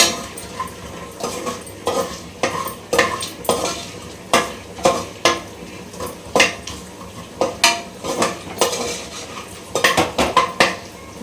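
Cloves, cardamom, peppercorns and cashews fry in a home kitchen pan while a spoon scrapes and clinks against the metal in a steady, repeated rhythm over a soft sizzle, with no talking.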